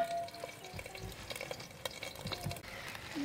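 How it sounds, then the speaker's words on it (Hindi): Stuffed tomatoes in a spiced curry sizzle and fry quietly in a pan, with faint scattered crackles and soft spoon-stirring clicks at a low, steady level, with no talking. "देखिए हमारा पकना स्टार्ट हो गया है।"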